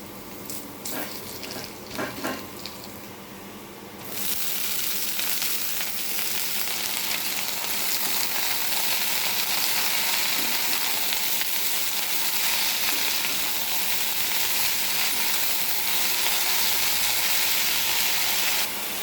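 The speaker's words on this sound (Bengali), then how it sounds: "ভালো করে ভেজে নিয়েছি, এবার শাকগুলো দিয়ে দেবো।" Note shak (amaranth greens) fry in a pan, a few clatters of handling giving way to a loud, continuous sizzle that holds steady to the end.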